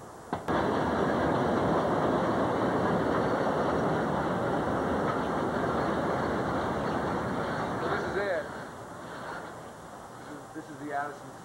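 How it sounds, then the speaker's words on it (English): Loud, steady rumble and rattle of a Chicago elevated train heading north to Howard, passing close by near Wrigley Field, fading after about eight seconds into quieter clatter and faint voices. "So this would be the north to Howard train."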